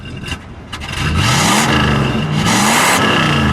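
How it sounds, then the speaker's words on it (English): A 1966 Chrysler Newport convertible with a 383 V8 and a big exhaust is revved in a parking lot. The engine rises from idle into a loud, sustained rev up close. "Go ahead, give it a rev."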